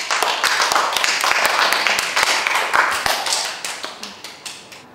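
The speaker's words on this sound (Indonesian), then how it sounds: "Oke, tepuk tangan." A classroom or workshop group claps together after a talk on inclusive teaching for children with special needs. Many overlapping hand claps form a dense, steady burst that thins to scattered separate claps near the end.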